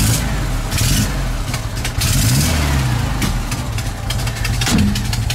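A VW Super Beetle engine cranks and catches, then idles roughly with several sharp revs rising and falling, loud and close throughout.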